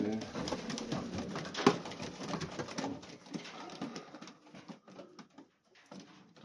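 Young Old Polish homing pigeons coo softly in a loft amid rustling and faint background noise, with someone talking quietly over the birds.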